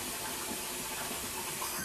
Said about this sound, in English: We're gonna pour this water out and we're gonna put more water in.